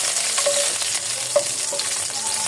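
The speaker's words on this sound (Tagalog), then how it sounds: "Sasangkutsa ko lang siya basta lumambot yung kamatis." Tomatoes frying with onions in a pan for pork sinigang, cooked until soft, giving a steady close sizzle marked by occasional light stirring clicks and scrapes, with no voices.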